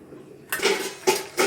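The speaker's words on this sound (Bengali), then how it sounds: "5 মিনিটের জন্য ঢাকা দিয়ে দিচ্ছি।" A metal lid clatters down onto a pan of prawn, ridge gourd and potato curry. It is followed by two further sharp metallic clanks as it settles, close and fairly loud with no talk.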